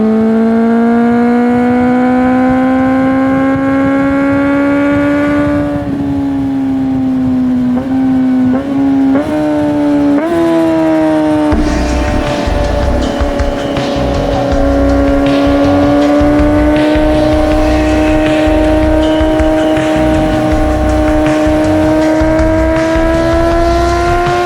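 Motorcycle fitted with a Moriwaki slip-on exhaust revs loudly at night, a steady droning engine note broken by several quick throttle blips around the middle, then a rougher, heavier rumble as it pulls away and holds.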